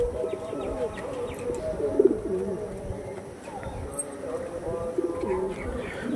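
A pair of Madras pigeons, a flying line of birds, coo in low, overlapping bursts that continue steadily at moderate loudness, with a voice partly mixed in the background.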